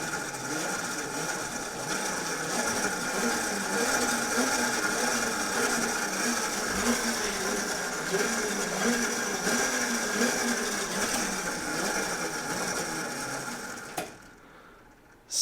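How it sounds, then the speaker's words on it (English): A microhydro waterwheel spins on a powertrain subframe while running on 200 volt DC. A continuous mechanical whir with faint rhythmic ticking carries on steadily for about fourteen seconds before cutting out, and nobody talks. "let's put it on the 200 volt DC and give the wheel a spin"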